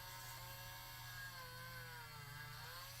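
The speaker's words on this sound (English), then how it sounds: "we're going to drill into the ball" A power drill whirs steadily as it bores into the ball joint of a hollow Mafex toy figure, a continuous high-pitched tonal whine with a slowly drifting pitch, faint and unbroken throughout.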